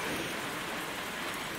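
Steady rain patters and hisses continuously on nearby surfaces, an even wash of dripping with no other sounds standing out.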